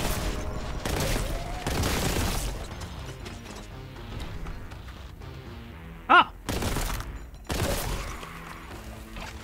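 Gunfire in the shooter game Warhammer 40,000: Boltgun comes in several short rapid bursts of close, punchy shots separated by quieter gaps, with one sharp isolated blast near the end.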